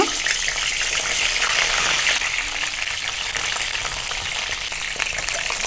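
Green brinjal pieces sizzle in hot oil, a loud, steady, dense crackling hiss that stays constant throughout, close up with no talk.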